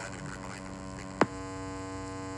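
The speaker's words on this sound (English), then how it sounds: "which we are getting as the low noise at the background, low humming noise" Steady low electrical hum from an SDR radio receiver tuned near 146.5 MHz in GNU Radio, an even, continuous drone with one brief click partway through and no speech.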